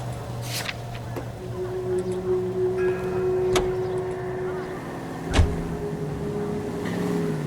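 Car engine hum in the game L.A. Noire, steady and moderate under faint background tones, with a few sharp clicks and a soft thump partway through.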